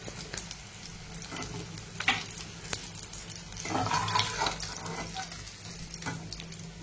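Masala-coated fish frying in hot oil, giving a soft, steady sizzle and bubbling that swells in the middle, with occasional clicks and scrapes and no talking.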